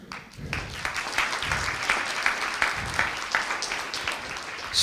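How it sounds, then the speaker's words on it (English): Roughly 130 people at a conference in Tartu applaud, the clapping swelling in quickly after a brief gap and staying full and lively to the end. "I hope you heard the clapping of at least 130 people here in Tartu"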